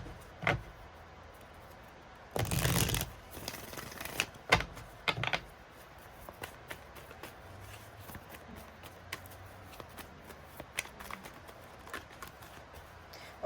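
Playing cards handled after being dropped, with scattered soft taps and clicks, a louder burst of shuffling, and faint sparse handling noises spread through a quiet room.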